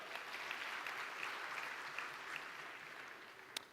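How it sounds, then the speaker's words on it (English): A conference audience at a sustainable energy week event applauds the host, a soft, distant, steady wash of clapping in a large hall, ending with one sharp nearby clap. "A round of applause for the amazing Giselle."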